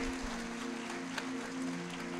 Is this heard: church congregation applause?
yes